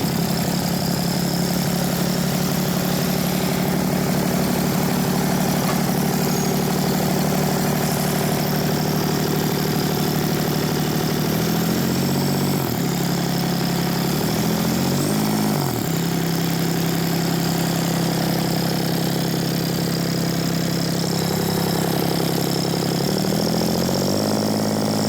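A turbocharged diesel engine on a lawnmower rigged for plowing snow idles steadily and loudly throughout, with a deep rumble and a few brief rising revs partway through.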